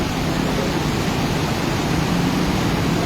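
Floodwater of the Aklan River rushes during Typhoon Verbena, a dense, constant roar of churning water near a bridge, loud and unbroken with no other sounds above it.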